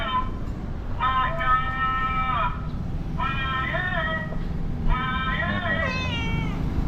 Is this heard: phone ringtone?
no